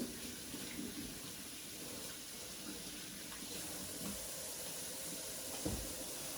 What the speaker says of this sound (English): Wash my hands so I can add that Worcestershire sauce.